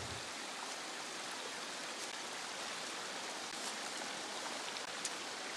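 The Sibun River in Belize rushing steadily, a dense, even broadband roar of flowing water with no breaks, close and moderately loud, and no voices.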